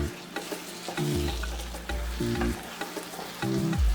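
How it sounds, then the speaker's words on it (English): A spatula stirs an egg frying in a pan for Ghana-style spaghetti noodles, giving three scraping strokes over a steady, quiet sizzle, with no talking. "So at this point you can stir your egg."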